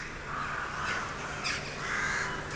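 Crows caw repeatedly in Killarney, Ireland, with several harsh calls overlapping against a steady background hiss, moderately loud and fairly close, with no talking.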